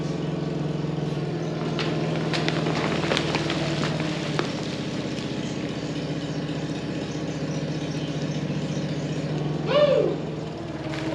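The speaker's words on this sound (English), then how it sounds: "Listen to the sound of the forklift's engine as it's picking this up." A forklift engine runs steadily at a low, laboring rumble while lifting a heavy load of grain feed for horses, close and continuous, with a brief rising whine near the end.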